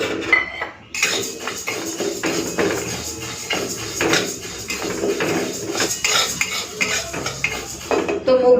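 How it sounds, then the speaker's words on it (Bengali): Mung dal dry-fries in a hot kadai as it is stirred, giving a busy, close rhythmic scraping and clattering of spatula on metal, with no talking. "কড়াইটা গরম করে নিয়েছি, এই ডালটাকে ভেজে নিই"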